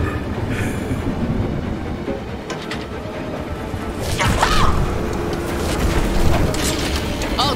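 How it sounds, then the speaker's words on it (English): A train in the horror video game Choo Choo Charles gives a continuous mechanical rumble with rattling and clanking that grows louder partway through, under brief bursts of talk. "They're making me run to the train. Get me on the train, please."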